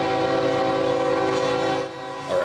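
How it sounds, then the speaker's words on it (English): A loud, sustained train horn blares at a railroad crossing beside homes in Fort Worth, its steady harmonic tones filling the clip before dipping and rising again near the end. "Train noise is a given when you live next to a railroad track,"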